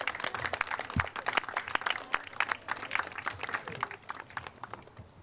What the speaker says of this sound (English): Another round of applause then.